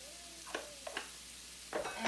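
Carrot, celery and onion sizzle in a hot pot insert for a slow cooker pot roast, with a soft steady fry broken by a few scraping stirs of a utensil against the pot.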